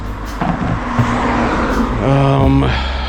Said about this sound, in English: cars are just driving by left and right here on this infamous Henrietta Street